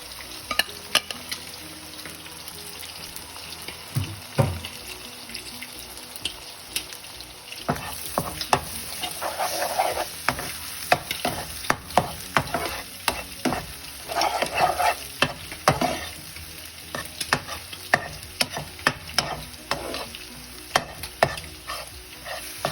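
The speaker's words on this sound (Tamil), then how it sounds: "இந்த முட்டையை நாங்கள் ஸ்க்ரம்பிள் பண்ணி எடுப்போம்." Eggs being scrambled in a pan for a shrimp puttu mix, with a steady sizzle of frying under repeated scraping and stirring strokes, growing busier partway through; no voices.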